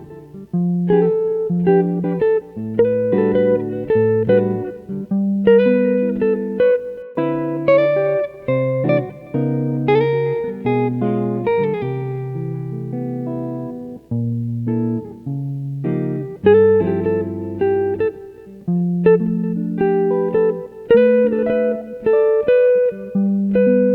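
A jazz standard comped with jazz chord substitutions: a close, clear run of rhythmic chord stabs and sustained voicings with shifting harmonies over a steady pulse, played alone for about twenty seconds.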